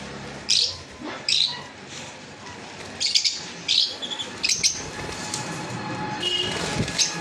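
Pet cockatiels and sun conures give sharp, piercing chirps and squawks in irregular bursts close by, over a constant rumbling background noise.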